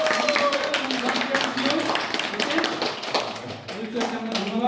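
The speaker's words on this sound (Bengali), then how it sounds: "হাততালি।" Audience clapping at a graduation ceremony for a training center's fifth batch, a steady patter of many hands running throughout, with voices talking over it.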